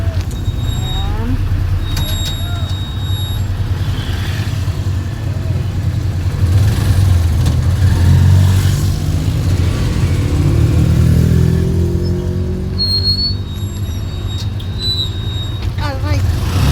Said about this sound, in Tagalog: Naka-tricycle lang kami.